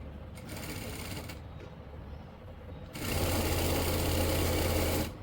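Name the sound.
sewing machine stitching kurti collar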